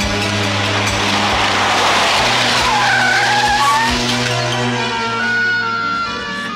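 A film car skids hard with loud, sustained tyre squeal over a roaring engine, continuous and close for several seconds.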